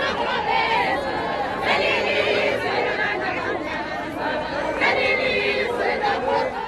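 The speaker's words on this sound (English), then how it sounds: "There were big crowds along the road from Mthatha Airport to Kunu." Large crowds line the road from Mthatha Airport to Kunu, Nelson Mandela's ancestral home, filling the air with steady, loud, close-up chatter from many voices at once.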